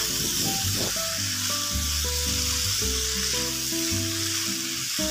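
Peas and spices stirred in a hot pan for Bengali matar ghugni give a steady frying sizzle and hiss throughout, partly under a background of tonal music.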